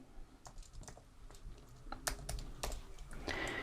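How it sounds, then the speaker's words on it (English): Close, quiet keystrokes tap out numbers on a computer keyboard, an irregular run of light clicks with a few firmer presses, alone without talk. "so I'm going to type these numbers in."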